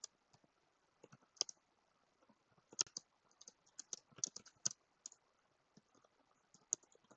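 Fingers tap out Java code on a computer keyboard in quick, uneven clicks and short flurries, crisp and close in a quiet room, with pauses between bursts.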